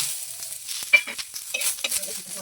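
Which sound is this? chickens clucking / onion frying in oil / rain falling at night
onion frying in oil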